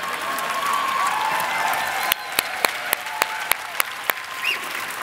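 Audience applause at a Dutch Bros keynote in Portland, Oregon, a dense wash of clapping from a crowd that thins out into several separate sharp claps, loud and close.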